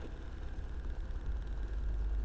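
A Honda Beat CBS ISS 2023 scooter engine runs on a light throttle opening, making a steady, close low rumble with slight fluctuation and no voices over it.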